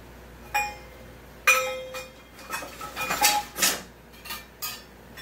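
A quarter-cup measuring cup handled among kitchenware, giving a series of bright metallic clinks and clatters, several sharp knocks spaced irregularly and close by, with no talking.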